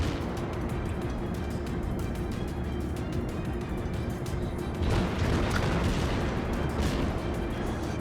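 Naval guns of a Kongo battleship boom in a World of Warships naval battle, a dense continuous rumble of gunfire with a louder burst of blasts near the end.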